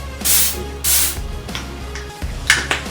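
Cherry-scented room spray is sprayed in several short hissing bursts, two strong ones close by followed by quicker, lighter puffs.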